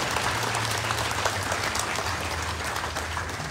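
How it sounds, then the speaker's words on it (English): Applause from an audience at an FSM consulate office opening, greeting the chairman of a congressional committee; a steady, dense wash of clapping continues throughout at moderate level, with a low hum underneath. "Let us give him a round of applause."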